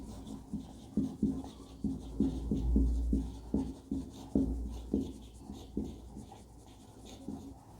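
Rhythmic tapping and scratching strokes of writing on a board in a classroom biology lesson, moderately loud and near, with short pauses between words and no talking.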